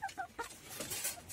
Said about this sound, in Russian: Вот такой петух у меня.